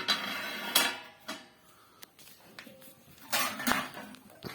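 A bell-metal kanhi dining plate from the Ahom era, kept in a sattra storehouse on Majuli, is handled, giving several bright metallic clanks and rings with softer knocks between them and no talk.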